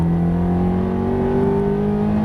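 A Ferrari F430 engine accelerates under throttle on a track, a close, steady, loud drone whose pitch climbs smoothly with no break.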